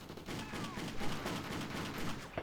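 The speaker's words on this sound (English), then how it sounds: "Now I'm going to try and avoid the machine guns." Machine guns chatter in short, fast bursts during a fight in Just Cause, close and steady for a couple of seconds with a faint voice underneath.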